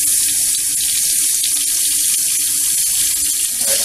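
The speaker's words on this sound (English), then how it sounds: "Still got a bunch of air in the water." Water mixed with air gushes loudly and continuously from a tap fed by a newly installed DSK-65 tankless water heater, a close, steady hiss with slight sputtering.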